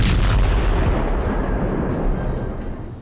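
A loud, heavy blast during a missile attack on Tel Aviv, with a deep rumble that holds strong and then slowly fades over a few seconds, heard alone.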